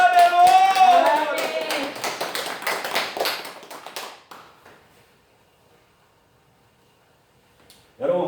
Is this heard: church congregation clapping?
yes